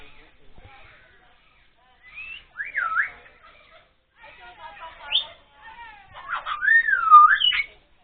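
A bird at an animal sanctuary in Tagaytay whistles a series of rising and falling calls imitating a turkey's gobbling, in short bursts separated by pauses, clear and fairly close.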